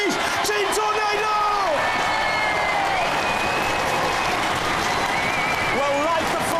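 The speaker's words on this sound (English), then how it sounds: "One more last round of applause for the UK champions, please" Applause and cheering for Robot Wars UK champions Team Tornado at a Series 6 grand final fill a large studio, a loud, steady roar of clapping with whoops and shouting voices over it.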